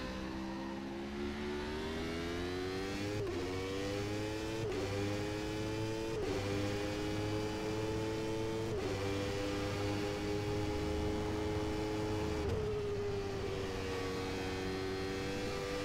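A McLaren racing car engine in rFactor 2 drones loudly and continuously, its pitch climbing through gears with sharp drops at each shift.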